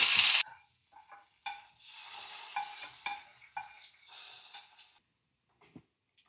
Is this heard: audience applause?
no